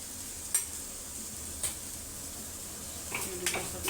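Spices being stirred into a hot frying pan for veg biryani, with a few sharp utensil scrapes and clinks over a low steady sizzle, no voices.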